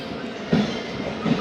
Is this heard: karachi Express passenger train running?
yes